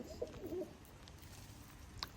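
Pigeons just flown and back at the loft give a few soft, low coos early on, faint against quiet background hiss, with a brief higher chirp near the end.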